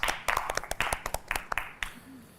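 A small studio audience on a Hindi reality show claps in short, uneven bursts that fade out within a couple of seconds.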